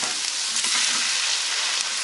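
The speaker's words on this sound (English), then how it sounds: "when the beef is cooked and it starts making these happy sizzling noises" Ground beef sizzling as it fries in a pan, a steady close crackle and hiss with small pops throughout, no voices.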